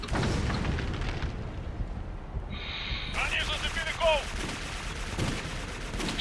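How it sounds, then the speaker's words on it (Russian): Grenade blast in the video game Clive Barker's Jericho, a dense burst of gunfire-like crackle and rumble amid ongoing combat noise, with shouted voices and radio-like chatter layered over it. "Осторожно, граната! Осколочная пошла!"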